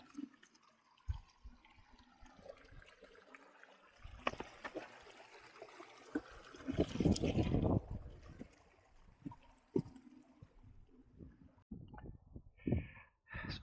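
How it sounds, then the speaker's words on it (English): Water splashes and trickles as a runner crosses a small stream on Marsden Moor near Standedge. Quiet, irregular sloshes and drips build to a louder burst of splashing midway, then break into sparse, scattered splashes. "Looks like We're crossing a bit of water."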